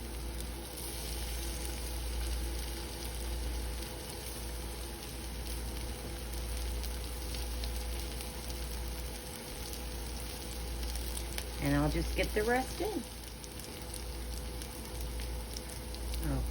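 Hash brown cheesy cakes fry in a pan with a steady, soft sizzle throughout, a person speaking briefly over the quiet crackle of oil.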